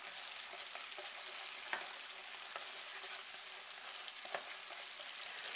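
Seasoned meat pre-fries in a wok over low heat for Chinese gochu japchae, giving a steady, fairly quiet crackling sizzle with a few sharper pops, with no voices.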